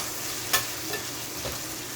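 Coconut milk cooks in a pan for Jamaican salt mackerel run down, with a low steady bubbling hiss and one brief sharp clink of a utensil, heard close.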